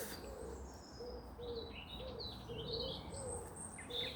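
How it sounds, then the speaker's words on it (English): Several birds chirp and twitter in overlapping calls against a steady outdoor background, with a low repeated cooing beneath. "Listen to the birds chattering."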